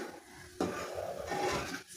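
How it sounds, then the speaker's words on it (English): A utensil stirs and scrapes through thickening mushroom sauce in a pan, giving a few soft, brief scraping strokes at low volume. "so you keep on stirring"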